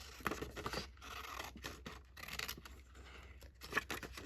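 Scissors snip through paper for a scrapbooking booklet, a series of quiet, close cuts and scratchy rustles at an irregular pace.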